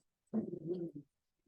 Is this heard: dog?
yes